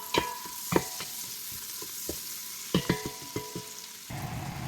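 Garlic frying in a pan for pineapple chicken, a steady sizzle broken by repeated sharp scrapes and taps of a utensil stirring, close and clear with no talk.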